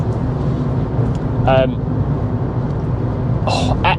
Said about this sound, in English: the noisy diesel clatter almost goes quieter how faster you go